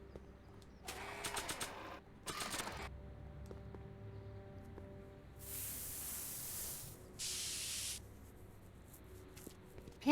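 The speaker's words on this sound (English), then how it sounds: "might as well spray paint while I'm here" Spray painting in the video game Back to the Future: The Game: two long, loud hissing aerosol bursts, after earlier short rattling sounds over quiet game ambience.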